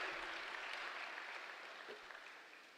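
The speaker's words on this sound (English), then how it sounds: "let's have a huge round of applause for all our dignitaries present with us today" Conference audience applauding visiting dignitaries at an international conference, a soft, steady wash of clapping heard from a distance that slowly fades toward the end.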